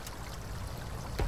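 Water rushing dangerously down a stream in Snowrunner on the snowy North Port, Alaska map, a steady broadband wash with a louder surge at the end, alone without talk.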